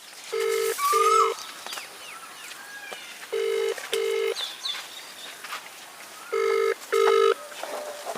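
Outgoing phone call ringing back, three paired ring bursts spaced evenly at moderate level, with faint birdsong in the background and no one answering.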